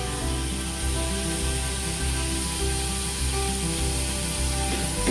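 Chopped tomato and ginger-garlic paste hit a hot pan while cooking bhindi do pyaza, giving a steady, loud sizzle and spray-like hiss that continues evenly throughout.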